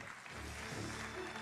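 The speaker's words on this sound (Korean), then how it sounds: "큰 박수 부탁드리겠습니다." An audience applauds at a Korean presidential-candidate interview event, a faint, steady wash of clapping that holds for the full moment without a break.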